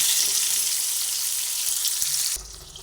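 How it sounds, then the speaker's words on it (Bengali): Pointed gourd (potol) slices fry in oil with a bright, steady hiss that suddenly drops off near the end, leaving a quieter low rumble. "ভালোভাবে পটলগুলোকে লাল লাল করে ভেজে নেব"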